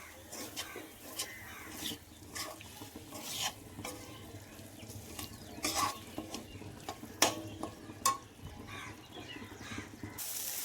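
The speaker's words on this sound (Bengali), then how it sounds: "কড়াইশুঁটি এবং আলুর পিসগুলো মশলার সঙ্গে খুব ভালোভাবে কষিয়ে নিয়েছি" Green peas and potato pieces being stir-fried with spices, a spatula scraping and clacking against the pan in repeated strokes over a low sizzle, close and alone.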